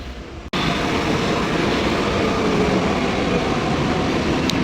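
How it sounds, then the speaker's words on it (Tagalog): Underground train pulling into a station, a loud, steady broadband rumble that rises abruptly and holds close, with no voices over it. "Ayan, nandito na ang ating train."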